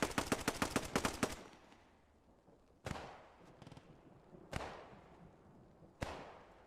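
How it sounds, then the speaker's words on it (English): Machine gun fire through smoke in Post Scriptum, a quick rhythmic burst of shots followed by three separate sharp distant reports spaced a second or more apart, each trailing off in a short echo. "MG now putting shots through that smoke"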